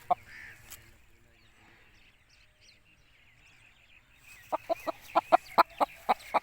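An aseel rooster clucks near and clearly, first with a single call and then with a quick run of about ten sharp, evenly spaced clucks against quiet background hum.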